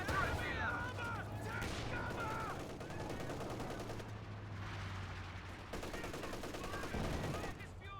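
Machine gun fire in a competitive World War II strategy video game match, rapid bursts crackling over low rumbling battle noise with a commentator talking throughout.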